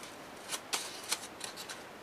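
Scissors snip through paper in several quick, quiet cuts, irregularly spaced over a couple of seconds, close by.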